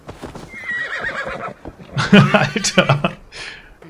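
A horse in Assassin's Creed Valhalla whinnies loudly alongside hoofbeats, with someone talking over parts of it.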